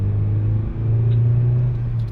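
Mazda MX-5 NBFL engine humming steadily while driving, a low, even drone close by that dips briefly and then holds again, with no talk over it.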